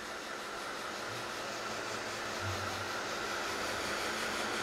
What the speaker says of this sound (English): Gonna hit that again with the heat gun.